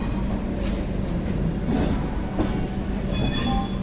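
Shatabdi Express train pulling out of Howrah station, a steady loud rumble of rail cars with faint wheel squeal and brief higher-pitched bursts, no voices.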